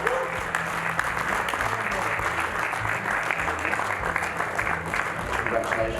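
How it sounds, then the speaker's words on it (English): Crowd applause for an award winner at a hot rod and custom car show, a steady bed of clapping with low tonal hum and some talk murmuring underneath throughout. "Round of applause for him"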